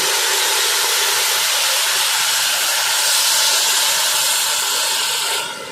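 Loud, sustained hiss and sizzle as hot water is poured into a very hot pan of spiced rice, a steady rush of steam that fades at the end.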